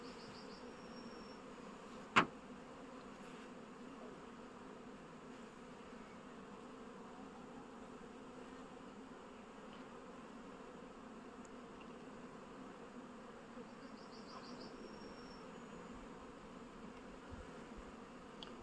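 Honeybees fly around hive frames worked by young queens, a faint, steady buzzing hum that runs throughout, with one sharp click near the start.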